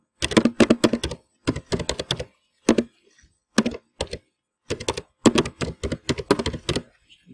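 Keys clatter on a computer keyboard as an email address is typed, quick close bursts of clicks in short groups separated by brief pauses.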